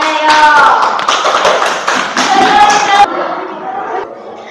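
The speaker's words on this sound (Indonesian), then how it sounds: "Beri tepuk tangannya yuk" An audience of students and teachers in a junior high school classroom claps together in a loud, close burst that lasts about three seconds and then fades into quieter room sound.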